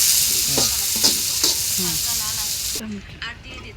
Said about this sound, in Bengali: তেল দিব নাকি আগে একটু লাল করে নেব।